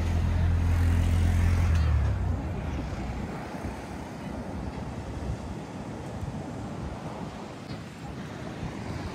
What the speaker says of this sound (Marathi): वादळ बघा.